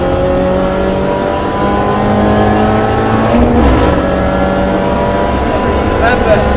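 A Mini Challenge Clubsport race car accelerates hard at Cadwell Park, its engine loud and close with rising harmonic revs and a gear change midway, under a driver coach's talk.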